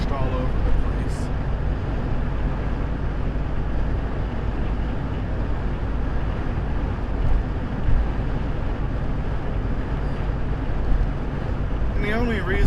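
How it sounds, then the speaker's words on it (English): Constant low roar of strong wind buffeting a 1984 Lincoln Town Car while driving, steady and heavy gusts, with a faint voice underneath. "It is super windy today."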